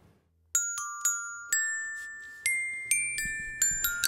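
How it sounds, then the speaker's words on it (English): A familiar show theme song opens with a series of bright bell-like chimes, each struck note ringing out and fading before the next. The strikes come faster toward the end, with a soft low pulse underneath. "I would now like to play out the show with a familiar song that all my fans should know."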